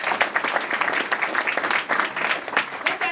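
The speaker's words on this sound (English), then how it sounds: "we should clap for that" A crowd at a hospice Tree of Life lighting ceremony claps together in a brief, steady burst of applause, close and continuous.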